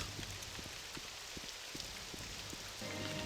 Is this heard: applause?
no